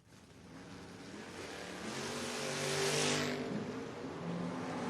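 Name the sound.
drag racing door cars launching down the strip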